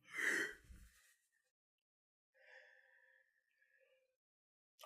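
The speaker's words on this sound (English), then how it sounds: "Oh, you're yawning." A person's yawn, opening with a loud breathy gasp and fading into a quieter, drawn-out voiced exhale, with silence in between.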